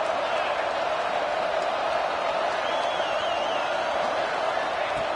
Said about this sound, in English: The crowd is really getting into it.